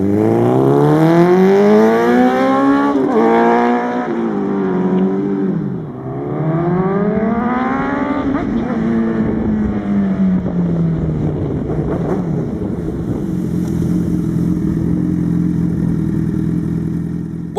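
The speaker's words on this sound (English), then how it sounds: "Now I'm gonna let you hear me take off on this bike so you can hear the true sound of this bike." A Honda CBR1000RR Fireblade sport bike accelerates hard from a standstill to 60 on a back road, its engine climbing loudly through the gears with rising pitch sweeps and brief dips at each shift, then settling into a steady high cruise.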